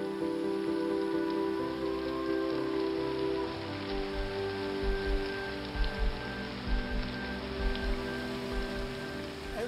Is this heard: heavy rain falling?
yes